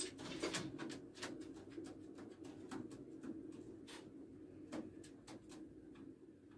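Pigeons coo low and steady throughout, with a faint repeating murmur under a series of sharp clicks and taps, likely wings or feet shifting nearby.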